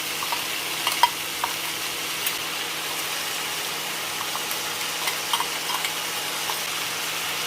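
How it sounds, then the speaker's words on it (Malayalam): A crushed coconut mixture is stirred into half-cooked bottle gourd for churakka thoran, giving a steady low sizzle and frying hiss with faint spoon scrapes and soft taps, close and continuous, with no voices. "അതിലേക്ക് ചതച്ച് വെച്ചിരിക്കുന്ന തേങ്ങാക്കൂട്ട് ചേർക്കാം"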